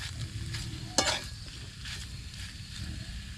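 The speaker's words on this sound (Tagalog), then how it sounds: "alalayan na po agad ng halo para hindi magdikit" Macapuno jam being stirred in a pan as it cooks: a soft, steady sizzle with one sharp scrape of the spoon against the pan, close and fairly quiet.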